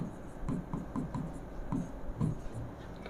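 Chalk or marker writing a chemistry question on a classroom board during a lecture, heard as soft irregular taps and short scratchy strokes at close range, with no talk over them.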